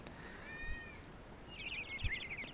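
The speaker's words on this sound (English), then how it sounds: "You can hear my cat meowing too." A pet cat meows faintly indoors, a short rising call early on and then a wavering, chirpy meow, heard quietly against low background noise.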